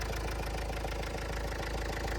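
A 2004 Opel Vivaro van's 1.9 dCi turbodiesel idles steadily and smoothly, a close, even low rumble with a faint rhythmic diesel clatter and no voices over it.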